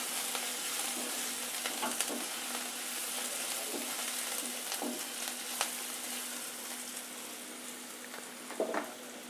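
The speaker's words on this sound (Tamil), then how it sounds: "இந்த வெங்காயம் வதங்கிறதுக்கு, சீக்கிரமாக வதங்கிறதுக்கு கொஞ்சமாக உப்பு போடுறேன்." Sliced onions with a pinch of salt fry in a pan for chicken gravy, a continuous soft sizzle with occasional stirring scrapes and pops, no voices.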